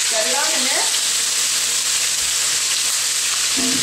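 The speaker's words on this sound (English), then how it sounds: "we're going to let it sear on both sides" Salted and peppered pork sears in hot oil with a steady, close sizzle throughout, a brief voice heard faintly at the start and a soft clatter near the end.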